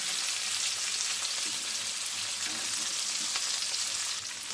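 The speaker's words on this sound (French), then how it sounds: "Ça y est, mes endives sont joliment dorées. Je vais maintenant venir les retourner." Endives browning in a pan give off a steady, dense sizzle that holds evenly throughout, with faint scraping as they are turned over; no one speaks.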